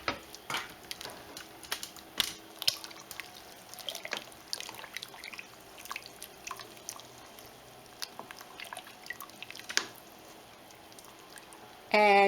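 Lentil and barley soup is stirred in a pot, giving quiet wet sloshes, drips and scattered light clinks of a spoon against the pot, close and faint, ending in a short louder burst.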